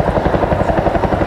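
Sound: Chinook helicopter flying sideways at an air display

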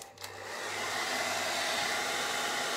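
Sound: hair dryer drying marker paint on a sign

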